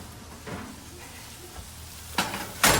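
Sheet pan fajitas sizzle softly and steadily after high-heat roasting, followed by two louder bursts of crackling hiss toward the end.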